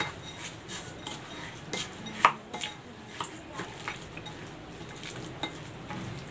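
Utensil stirring a squid stuffing of breadcrumbs and egg in a bowl, giving soft scraping and clinking taps in an irregular rhythm with one sharper clink, close and fairly quiet, with no talk.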